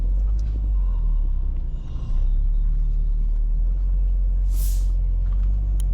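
A £250 scrapyard-rescue Mini Cooper driving with its exhaust rattle and knocking repaired, giving a steady low engine and road rumble with a brief hiss near the end and no talk.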